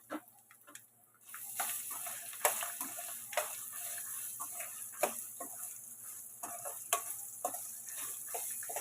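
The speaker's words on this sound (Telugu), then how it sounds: "ఇట్లా అల్లం మంచి వాసన వచ్చేదాకా వేయించుకోవాలండి." Chopped ginger frying in a pan for hotel-style allam chutney, with a continuous hiss of sizzling oil and irregular ticks and scrapes of stirring up close.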